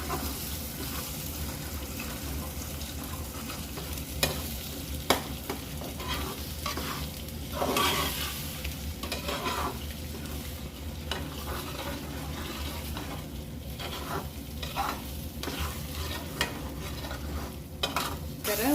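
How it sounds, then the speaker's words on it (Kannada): Scrambled eggs for egg bhurji are stirred steadily in a hot pan, a continuous close sizzle and frying hiss broken by frequent scraping strokes of the spoon, with no one talking. "ಚೆನ್ನಾಗಿ ತಿರುಗಿಸ್ತಾ ಇರಬೇಕು, ಇಲ್ಲಾಂದರೆ ಅದು ತಳ ಹಿಡ್ಕೊಳ್ಳುತ್ತೆ ಮೊಟ್ಟೆ."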